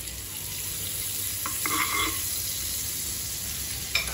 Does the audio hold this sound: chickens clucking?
no